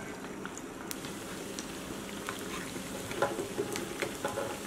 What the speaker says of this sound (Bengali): তেল গরম হয়ে গেছে। এবার আমি নুডলস বলগুলো একটা একটা করে দিয়ে দিলাম